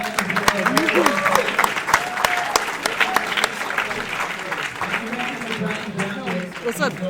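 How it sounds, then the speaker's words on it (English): A crowd at a Classic Tetris World Championship side stage applauds with a dense patter of claps, while a voice talks over it throughout. "round of applause for this"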